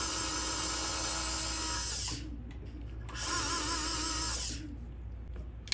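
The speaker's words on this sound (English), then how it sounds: "So that was the pilot drill." A dental implant pilot drill from a Z-systems tissue-level implant kit whines in two high-pitched bursts of about two seconds each with a short pause between them, close and steady, with no speech.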